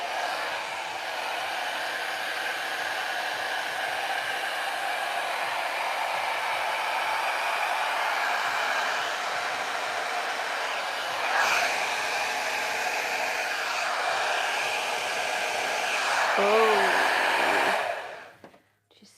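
Hair dryer blowing on wet paint, a loud steady broadband whoosh running continuously for about eighteen seconds before it cuts off abruptly, with slight shifts as the airflow moves.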